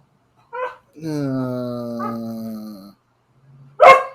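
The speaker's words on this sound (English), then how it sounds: "Shh, dog, please be quiet." Dog at home giving a drawn-out, whining howl-like vocalization followed by a sharp bark, close and loud, with brief quiet gaps between sounds.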